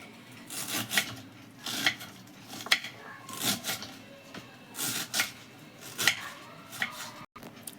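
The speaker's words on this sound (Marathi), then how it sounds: "आपण आता कापून घेणार आहे अशी बारीक बारीक" A knife finely chopping spring onion greens with their small bulbs on a board: repeated bursts of crisp, close cuts arrive roughly once a second in a steady rhythm, with soft rubbing between strokes.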